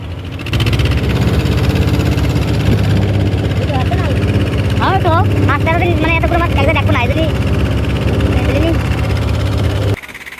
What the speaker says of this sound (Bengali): এখন ওই ট্রলারটি আমাদের ছেড়ে দূরে চলে যাচ্ছে